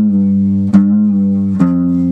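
Sustained guitar notes ring clearly for about two seconds, with two sharp re-attacks and slight pitch shifts, consistent with a note on the sixth string being bent a little. No voices are heard.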